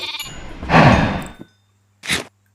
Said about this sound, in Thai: ผมต้องการแกะมากๆ